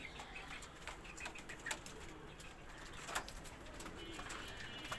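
Pigeons kept in a rooftop garden, some sitting on eggs and rearing squabs, coo faintly in soft repeated calls, mixed with occasional wing flutters and small chirps at a distance.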